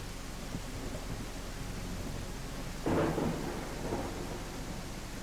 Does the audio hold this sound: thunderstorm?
yes